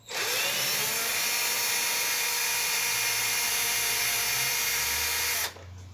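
Cordless screwdriver whirring steadily while loosening the drum bellows seal of an Arçelik washing machine, one loud continuous high-pitched motor run of about five seconds before it stops.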